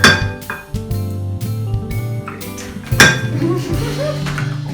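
Plain yogurt being spooned into a measuring cup in a home kitchen for naan dough, with clinks and scrapes of metal on the cup and a few taps, close and fairly loud over a steady background hum.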